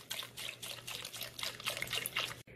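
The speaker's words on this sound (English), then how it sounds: "now I'm going to add some beef broth." Beef broth is poured into a crock pot over braised beef short ribs, a soft, close trickling splash that runs continuously for a couple of seconds before stopping abruptly.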